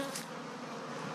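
Honey bees hum around a hive in a steady, soft buzz, a dense continuous drone from many insects, fairly quiet and with no talking.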